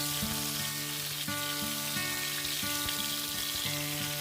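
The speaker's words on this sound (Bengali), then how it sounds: "এবার আমগুলোকে তেলের মধ্যে ভালো করে ভাজা ভাজা করে নেব।" Salted, turmeric-coated mango pieces for pickle fry in oil, giving a faint steady sizzle under a repeating background tune.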